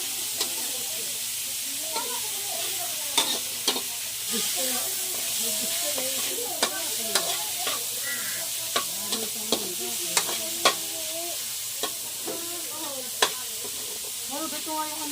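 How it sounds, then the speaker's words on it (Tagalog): Onion sizzles and fries in a pan as the start of sautéed cabbage, a steady hiss broken by frequent sharp clicks and scrapes of stirring, with a voice talking intermittently over the cooking. "Tumalbog na ang sibuyas."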